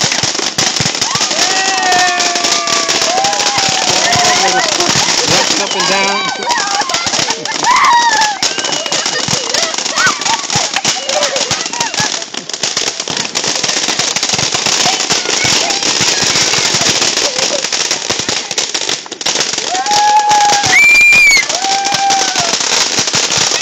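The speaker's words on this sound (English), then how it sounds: "mira los fireworks" Fireworks and firecrackers going off on New Year's Eve in Naguabo, Puerto Rico, with dense crackling and popping bursts throughout, whistling rockets rising and bangs near and far.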